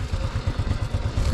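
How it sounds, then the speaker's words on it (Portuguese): A carbureted 2005 Honda Biz 100 motorcycle idles after a cold start, its small engine putting out a steady, rapid low putter with a light mechanical clatter, close and unaccompanied. "Assim é o cold start de uma Honda Biz 100 2005, carburada."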